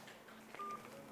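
A single short telephone dialing tone beeps faintly once over a quiet line hiss.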